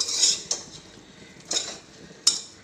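Oyster meat thoran sautéing in a pan, heard as a few sharp metal spoon clinks and scrapes against the cookware, spaced irregularly over a quiet, faint background.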